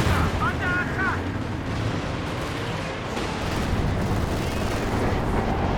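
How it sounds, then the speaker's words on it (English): A Katyusha rocket barrage in Company of Heroes 2 gives a continuous low rumbling roar of rapid launches and distant impacts, heard under a commentator's voice. "Katyusha barrage there, nearly taking down both Pios."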